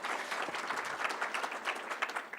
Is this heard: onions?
no